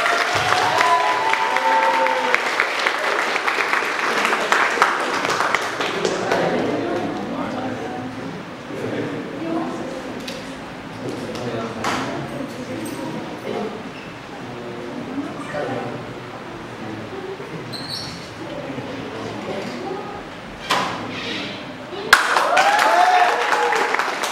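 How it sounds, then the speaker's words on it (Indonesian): A crowd of supporters claps for student council candidates at an open school debate, a sustained loud round of applause mixed with crowd noise. It thins to scattered claps and chatter midway, and people talk over it before clapping swells again at the end. "Beri tepuk tangan."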